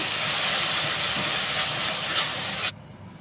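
Onion paste hitting hot oil in a pan for egg curry, a loud steady sizzle that cuts off abruptly near the end.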